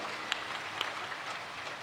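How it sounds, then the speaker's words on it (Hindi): An audience claps at a religious gathering in Ranchi, a faint, steady patter of many hands heard from a distance, with no voices over it. "एक बार तालियां बजाओ इस संगठन के लिए।"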